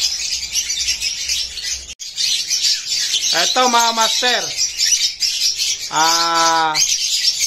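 Pet birds offered for sale, including green split opaline birds, keep up a constant high chatter, broken by two louder, clearer calls up close, while someone speaks briefly over them.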